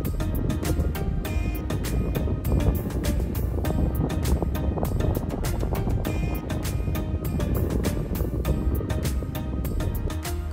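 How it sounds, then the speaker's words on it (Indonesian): Strong wind on Mount Agung in Bali buffets and roars across the microphone in a constant rush, with a faint patter of light drizzle beneath. "tiba-tiba angin kencang dan hujan gerimis"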